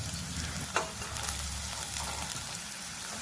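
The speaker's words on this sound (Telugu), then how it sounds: "కాసేపు మూత పెడదామండి ఉల్లిపాయలు మగ్గడానికి." Onions frying in a covered pan for methi chicken curry, a soft continuous sizzle with faint crackles and one brief knock near the start, low and muffled, with no speech.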